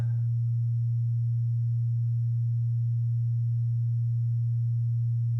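A modular synthesizer holds a single low sine-wave tone with its phase shift being adjusted, steady and unbroken at an even level throughout.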